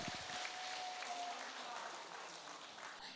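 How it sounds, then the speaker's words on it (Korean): Applause from the audience at a Gunsan Red Cross lifelong-learning college 30th-anniversary ceremony right after the group photo, a steady, fairly quiet wash of clapping with a faint tone running through its first part. "네, 다시 한번 박수 부탁드립니다."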